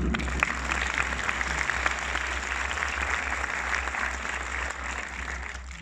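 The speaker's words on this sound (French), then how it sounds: "Oui, on peut l'applaudir." A cinema audience at a film premiere gives a sustained round of applause, many hands clapping steadily and evenly, with a low hum running underneath.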